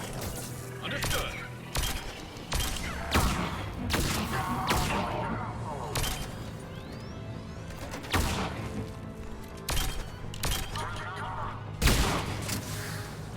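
Pistol shots from Mass Effect 3 crack out one at a time at irregular intervals, loud and sharp, with voices talking between and under them.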